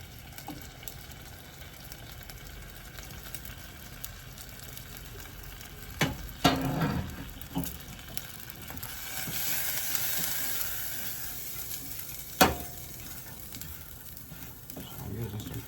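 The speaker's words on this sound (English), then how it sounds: "I'm using some bacon bits over here. Let's get my nice little color." Bacon bits frying in a pan give a soft, steady sizzle, broken by a few clinks and scrapes of stirring, with a sharp knock near the end.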